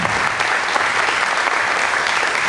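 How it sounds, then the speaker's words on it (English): A round of applause for two participants at a Lake County Ohio Tea Party meeting, many hands clapping in a dense, sustained roar that holds steady and fairly loud from start to finish. "if you would give them one round of applause"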